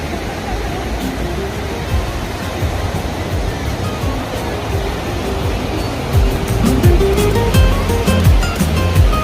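Ocean surf washes onto the beach at Playa de Tijuana, Mexico: a continuous broad rushing roar that swells louder toward the end, with faint tonal calls in the background.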